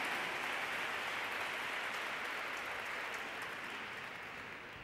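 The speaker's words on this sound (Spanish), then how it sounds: "Gràcies per los aplausos." A gala audience at an awards night claps in a dense, continuous wash of applause, steady at first and then gradually thinning and fading, heard from within the hall with no voices.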